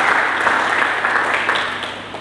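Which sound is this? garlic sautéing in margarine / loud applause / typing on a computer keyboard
loud applause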